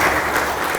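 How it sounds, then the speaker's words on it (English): Loud, dense applause from an audience at an arts and culture panel discussion, a brief burst of steady clapping heard up close. "that deserves a round of applause as well"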